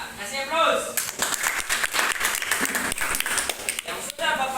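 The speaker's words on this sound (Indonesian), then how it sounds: "kasih aplaus" Students in a classroom burst into loud, dense applause that lasts throughout, with voices and cheers mixed into the clapping.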